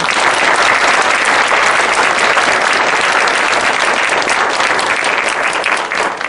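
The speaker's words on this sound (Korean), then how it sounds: "다시 한번 우리 이수정 교수님께 뜨거운 박수 부탁드립니다" Dense, steady applause from a lecture audience for a professor at a public humanities talk series held by a district court, loud and sustained throughout before tapering slightly at the end.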